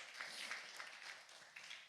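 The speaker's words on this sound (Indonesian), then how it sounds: "Tepuk tangan buat Tuhan kita yang luar biasa" Congregation applauding during a Sunday onsite church service at GBI, a steady faint wash of clapping from a distance, continuous for the whole stretch with no voices on top.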